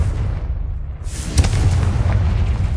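A Confringo blasting spell exploding in Hogwarts Legacy, a deep booming burst landing after a quiet moment, then a loud, steady low rumble that carries on.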